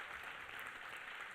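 Steady wash of applause from an audience at a talk event with Dame Dash and Julian Mitchell, dense and even throughout, fairly faint and distant with no voices over it.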